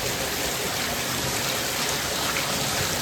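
Heavy rain pours down steadily in a dense, continuous hiss, filling household vessels set out to catch it; the downpour stays loud and even throughout with no talking.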